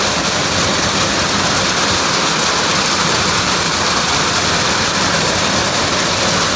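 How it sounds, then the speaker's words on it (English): Hail falling hard and loud, a dense steady roar of pelting ice that fills the whole stretch without letup or pause. "Boy, that hail is deafening, man."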